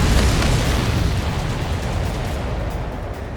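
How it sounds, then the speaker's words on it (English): Missile launch and explosion in the Ace Combat 7 combat flight game, a dense, steady roar of blast and rumble filling the whole stretch at high loudness, with no break or talk over it. "Spare 15, launching missile."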